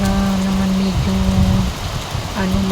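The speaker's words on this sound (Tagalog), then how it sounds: "Kaya malakas pa rin yung ulan." Heavy rain pouring steadily in Singapore, a dense hiss with a sustained tonal hum running underneath.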